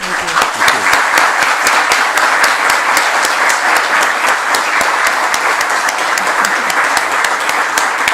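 An audience at a talk on the cultural functions of climate giving a round of applause to thank the speaker, dense, sustained clapping from many hands throughout, fairly close and loud.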